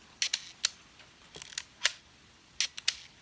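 Film camera mechanics up close, a ratcheting wind-on followed by the shutter release, heard as a series of sharp clicks and snaps in uneven bursts over quiet room tone, with no talk.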